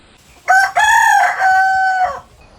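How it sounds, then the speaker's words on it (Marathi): A rooster crows once at dawn in the Konkan countryside, loud and close, a single long stretched call rising and then holding before it trails off, with no other sound around it. "पहाटे कोंबड्याच्या आरवण्याचा अलार्म"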